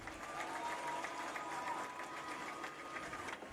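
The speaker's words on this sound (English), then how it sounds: "Ladies and gentlemen, one more round of applause for Apollo and Cameron Arms." Sustained crowd applause at a high school football game, Boys Ranch at Gruver, steady and fairly distant with a faint tone running beneath it.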